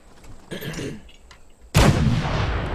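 In the video game Fallout 4, a sharp, loud gunshot blast erupts after quieter rumbling and distant shots, its echo lingering afterward.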